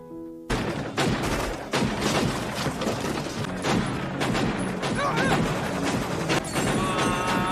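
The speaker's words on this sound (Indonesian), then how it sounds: "aksi baku tembak pun tak terhindarkan" Sustained gunfight from the 1991 action film Double Impact: rapid, loud bursts of gunfire and impacts crowd one another almost without pause, with scattered crashes and a faint voice underneath.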